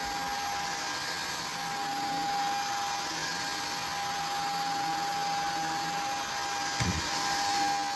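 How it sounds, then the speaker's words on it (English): A Shark Vertex Pro cordless vacuum cleaner hums steadily with a high whine over a hissing airflow while cleaning hair and hamster bedding from a medium carpet, running nonstop with a brief bump near the end. "let's see how the vacuum performs on a medium carpet with hair and hamster bedding"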